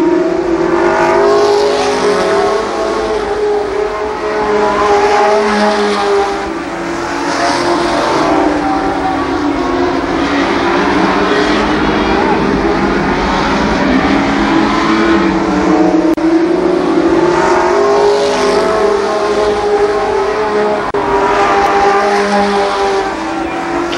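Race cars roar around the oval at Columbus Motor Speedway, a loud, continuous pack of engines rising and falling as cars sweep past, with steady revving and no break in the noise.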